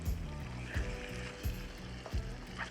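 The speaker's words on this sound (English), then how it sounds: "Still using a stick to stir with." A wooden stick stirs food in a pot simmering over a campfire, making steady scraping strokes about every second under a constant close sizzle.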